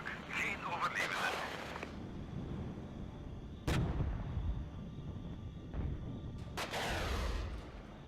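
Artillery and gunfire in the video game Regiments: booming rumble and scattered sharp reports at mid distance, a few distinct bangs standing out over a constant low roar, with voices talking intermittently underneath.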